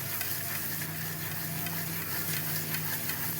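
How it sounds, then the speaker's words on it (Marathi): A cold coffee mixture is whisked hard until frothy, a loud, dense, continuous rushing churn with no pauses. "तर आपल्याला ह्याला अजून भरपूर फेटून घ्यायची."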